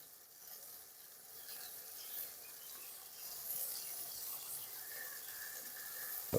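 Fish curry with turmeric simmering in a pan, a steady soft hiss and faint bubbling sizzle throughout, close and quiet, with no talk.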